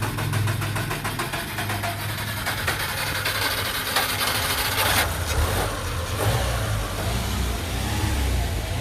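A 2011 Subaru Outback engine runs close by after being started, holding a steady mid-pitched hum with gentle rises in revs while engine cleaner foam is applied.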